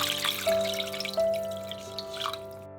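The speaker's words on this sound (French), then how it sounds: "On va mettre de l'eau froide." Cold water poured into a cooking pot for braised beef tongue, heard as a brief, close trickle with light drips and splashes over a faint steady hum.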